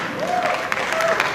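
A graduation audience at a college commencement claps and cheers in a short burst, a broad wash of applause with a voice speaking over it.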